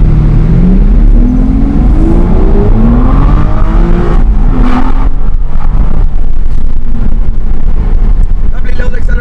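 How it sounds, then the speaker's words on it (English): A car pulls away from a petrol station after refuelling, its engine rising in pitch through the gears beneath steady wind and road noise, with a voice talking over it. "All pulling out of the petrol station."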